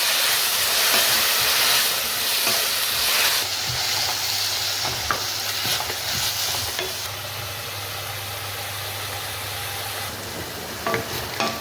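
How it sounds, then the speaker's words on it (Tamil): Tomatoes sautéing in a pan for country chicken curry, a steady broadband sizzle with occasional stirring scrapes and clinks, close and continuous throughout with no talk. "தக்காளியும் நல்லா வதங்கட்டுங்க."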